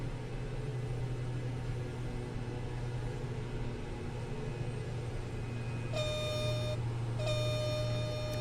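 A stall warning horn in Microsoft Flight Simulator 2024 sounds in two bursts of buzzing, honking tone near the end, over a steady low drone of aircraft engine noise.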